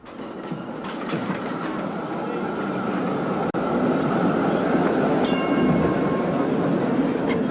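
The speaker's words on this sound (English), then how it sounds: "in the tramway station" A tram rumbles steadily through a tramway station, a loud continuous rolling drone with metallic rail squeal and clatter building slightly over several seconds, with faint voices.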